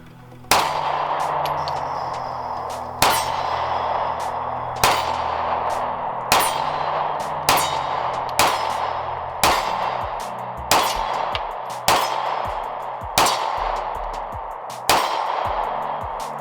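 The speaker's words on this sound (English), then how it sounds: "So we're gonna put some more rounds down range and see how this thing feels." A Sig P365 pistol with a 12-round magazine fires a string of sharp, loud shots outdoors at a range, spaced at an even pace with ringing decay after each report and no speech.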